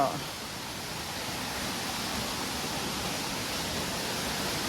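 A small natural waterfall in rainy-season Chiang Mai, a steady broadband rush of falling water that stays even and continuous from start to finish, with no talk over it.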